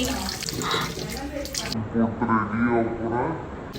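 Water splashes and runs from a tap as someone washes their face, a steady wet rush with dripping that continues under someone talking throughout.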